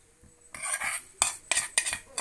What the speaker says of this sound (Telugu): ఇదిగోండి అడుగేమీ అంటట్లేదు, మెల్లగా కలుపుకోవాలండి.